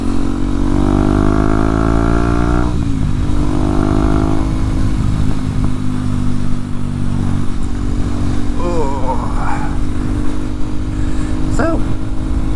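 A 2023 KTM 790 Duke twin rides along a road with a steady, loud engine drone that shifts pitch as it changes speed, and someone talks over it throughout.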